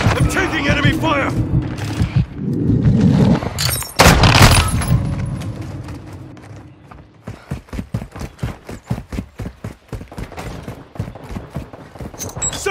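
Call of Duty: Modern Warfare multiplayer, a Kill Confirmed match on Kunstenaar District: loud blasts and crashes give way to rapid, close bursts of automatic gunfire, with voices heard among the shots.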